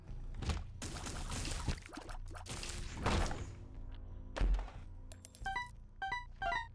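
Bomb blowing open a chest in The Binding of Isaac video game: several heavy thuds and a crashing burst, followed by bright chiming pickup tones, fairly quiet overall with no talk.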